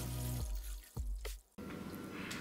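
Cereal whiskey wash and invert sugar wash are poured together, with sloshing, splashing liquid in bursts, a brief break, then a steady close pour.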